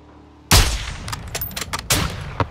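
A single loud, close sniper rifle shot in Call of Duty Modern Warfare 2 (2022) campaign, a sharp crack followed by a rolling echoing tail and a couple of smaller impacts.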